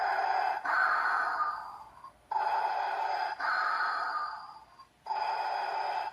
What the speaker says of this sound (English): You're a heavy breather.